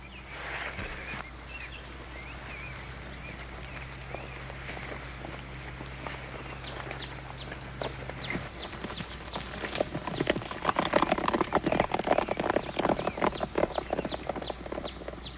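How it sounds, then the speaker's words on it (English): Hooves clip-clop steadily across hard ground, growing louder and busier as several horses move off together, with no talking. "Now get on your horses and get out of here."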